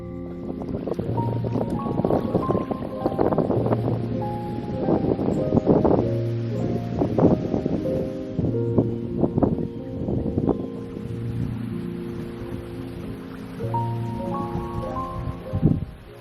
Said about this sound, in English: The wind blew from every direction